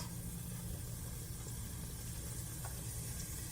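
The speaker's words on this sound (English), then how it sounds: "Y'all probably hear that sizzle already." Steady, faint sizzling of food frying in hot oil, a continuous soft crackle with no voices.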